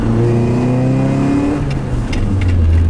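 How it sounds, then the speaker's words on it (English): A Volkswagen Scirocco 16V engine revs hard, its pitch climbing and then dropping back before rising again, loud and close with intake noise and a throaty exhaust note throughout. "The perfect amount of intake noise and exhaust noise makes this car honestly one of my favorite cars"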